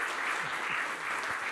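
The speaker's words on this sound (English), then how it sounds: "Oh, yeah, I see people clapping." Audience clapping at an IETF IPv6 operations working group session, a brief burst of even, moderately loud applause from many hands with no talking.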